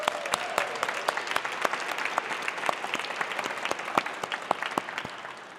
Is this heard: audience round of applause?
yes